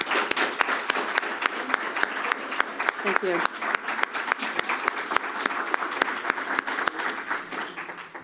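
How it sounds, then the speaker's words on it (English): Room-wide audience applause at a news summit, a steady wash of many hands clapping for the speakers, with a voice briefly saying a few words over it. "give everyone a round of applause"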